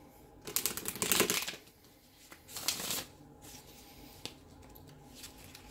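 Two quick riffling bursts of a card deck being shuffled, followed by soft taps and bridging sounds, close by in a quiet room.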